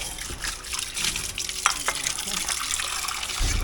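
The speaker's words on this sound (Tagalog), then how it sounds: "Tapos lagyan natin ito ng tubig." Tap water runs into a bowl to soak food in a home kitchen, a steady close splashing flow with faint background sounds.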